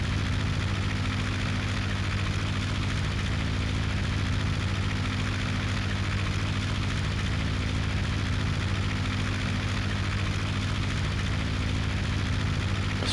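A Ki43 fighter's piston engine drones steadily during a climb in the Aces High 2 flight game, a loud, constant low rumble with a buzzing propeller tone and no talking.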